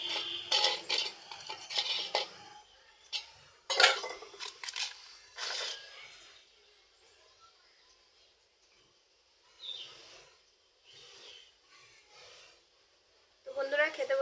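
Dishes and cutlery clink sporadically during a home meal of dal and fried potatoes, with bursts of scraping and stirring early on and faint clatter later, heard close and alone without talk.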